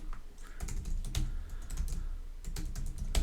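Someone types on a computer keyboard, producing bursts of quick, close clicking keystrokes with short pauses between clusters, and no speech.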